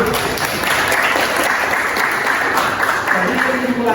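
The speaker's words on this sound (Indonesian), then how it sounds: "Tepuk tangan untuk Alin." A class of students applauds a classmate at a senior high school, brisk crowded clapping that stays loud and steady for the whole stretch, with a voice briefly audible near the end.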